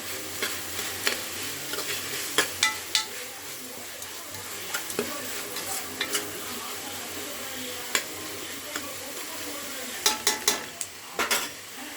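Salt is stirred into a chicken curry masala with a spoon, which taps and scrapes the pan again and again at an uneven pace over a soft constant sizzle.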